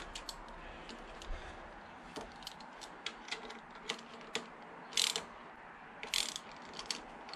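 A ratchet wrench tightens the handlebar riser bolts on a 2003 Honda VFR800 VTEC motorcycle, giving quiet, close, irregular clicks with short bursts of rapid pawl ticking, no talk.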